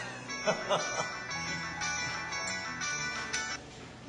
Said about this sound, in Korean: 미국 캠브리지 대학에서 전화가 와서